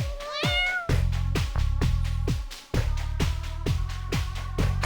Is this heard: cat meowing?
yes